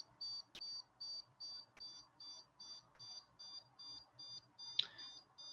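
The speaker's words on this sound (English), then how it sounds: "I'm going to hold it down, and I'm going to count out about 30 beeps." A rapid, regular series of high electronic beeps from a Dolphin Neurostim device, about two per second, steady and faint with a few soft clicks in the background.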